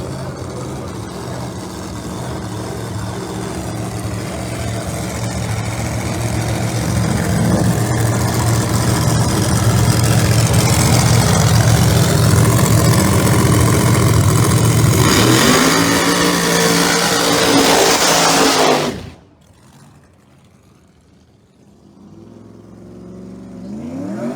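A twin-turbocharged Ford Mustang Pro Mod drag car running at a drag strip qualifying session, its engine roaring loud and steady for many seconds before cutting off abruptly, followed by a quieter engine rumble.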